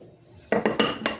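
A spoon clinks against a bowl or container as salt goes into keto bread dough for a bread machine, a quick cluster of four or five close, bright metallic taps with no voice.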